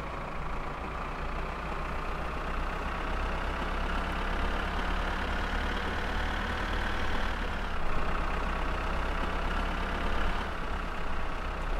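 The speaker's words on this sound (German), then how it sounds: "es ist ein verdammter Traktor." A tractor engine idles steadily in the game My Summer Car, a constant, fairly loud low drone with a mechanical hum and a slight pitch dip partway through, with no voices over it.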